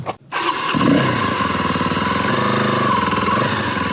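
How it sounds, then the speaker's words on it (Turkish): A motorcycle engine is cranked and catches hard after a brief stutter, then settles into a loud, steady, throbbing idle that sits close by with no talk over it. "Motoru önceden kolay çeviriyordum. Dönmüyor la daha."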